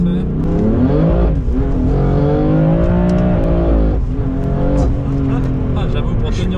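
A 580 hp BMW M3 F80 accelerates hard, its loud engine rising steadily in pitch through the run, with people talking over it inside the car.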